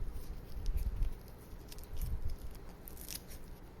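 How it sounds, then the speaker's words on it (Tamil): Knife slicing fresh curry leaves very thinly for a spicy diamond cuts snack, giving soft, quick, close chopping taps in irregular bursts against a board, fairly quiet and with no talking. "இப்போ கொஞ்சமாக கருவேப்பிலை எடுத்து எவ்வளோ மெலிசாக கட் பண்ண முடியுமோ அந்தளவுக்கு மெலிசாக கட் பண்ணிக்கலாம்"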